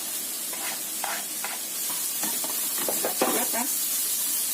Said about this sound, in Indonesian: Kita tumis lagi sampai sosis dan juga wortelnya matang.